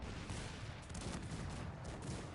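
Massed cannon fire in the strategy game Cossacks 3 makes a dense, continuous rumble of overlapping booms and crackling shots, rolling without pause at moderate loudness.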